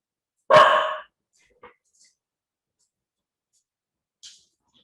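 A single loud dog bark close by, followed by a couple of faint small sounds and quiet gaps, during an indoor interview at home.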